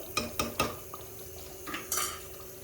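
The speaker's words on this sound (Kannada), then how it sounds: "ಸೊ ನಮ್ಮ ರೆಡಿಯಾಗಿರುವ ಕೋಫ್ತಾನ ಹಾಗೆ ಒಂದೊಂದಾಗೇ ಹಾಕ್ತಾಯಿದ್ದೀನಿ" Soya koftas dropped one by one into simmering sambar in a pot, making a few close metallic clinks and taps from a spoon against the vessel, then a soft splashing stir. No one speaks.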